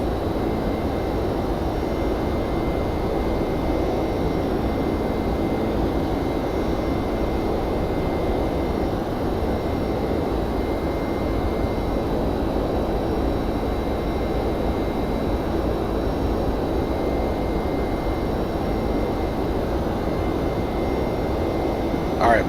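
A Boeing 767-300's jet engines drone in a flight simulator climb: a constant, dense roar holding steady throughout without breaks.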